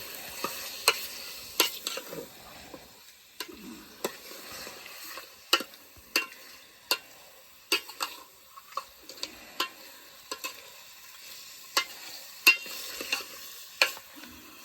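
Village chicken curry is stirred in a pot on a wood-fired stove. A spoon scrapes and clinks in irregular strokes over a faint sizzle, close and clear, with no talking.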